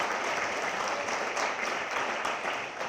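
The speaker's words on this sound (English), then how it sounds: "So a little round of applause for the Parks and Rec administration" Dense, steady applause from a banquet audience at an athletic hall of fame induction ceremony, many hands clapping together at a constant level throughout.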